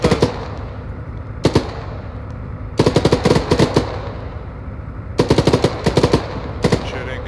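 Video game gunfire in Arma 3 during a squad combat mission, with loud close bursts of automatic machine-gun fire in several rapid strings separated by short pauses.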